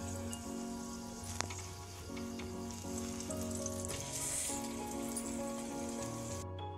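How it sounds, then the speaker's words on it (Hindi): An aloo paratha sizzles steadily on a hot tawa in refined oil, making a close, even crackle. A constant hum runs underneath and a sharp clink sounds early on. "और ये देखिए अब इसमें मैं तेल रिफाइंड ऑयल डालकर इसको घस रही हूँ।"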